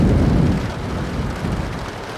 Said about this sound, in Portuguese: A chuva lá fora engrossou